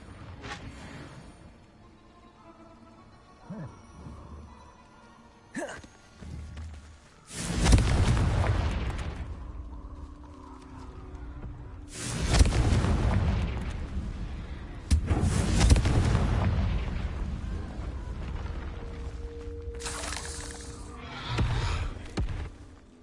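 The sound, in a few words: Confringo spell explosions from video game Hogwarts Legacy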